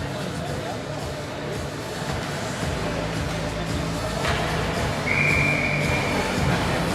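A referee's whistle sounds in a youth under-16 ice hockey game, rising as one brief tone partway through. It sits under steady rink crowd noise and general arena hum.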